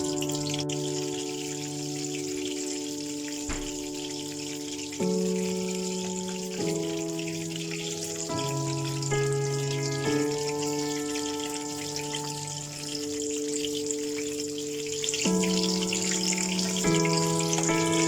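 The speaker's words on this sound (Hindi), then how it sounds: "अब इसे गोल्डन कलर आने तक इसको फ्राई करना है मीडियम फ्लेम पे" Chicken and potatoes fry over a medium flame with a soft, continuous sizzle and crackle. Steady tonal background music plays over it throughout, and no one speaks.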